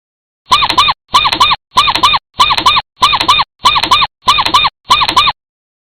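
A rat squeaks in a fast regular series of eight shrill, identical chirps, each short and piercing, close and loud with silence between them.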